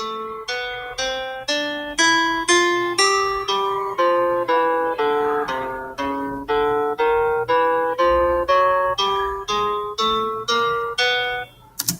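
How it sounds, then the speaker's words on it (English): Music notation software plays back a written melody as a string of evenly spaced synthesized piano-like notes, each plucked and decaying, stepping up and down in pitch for about twelve seconds with no voices. "you can listen in this program the music that you have written on this score."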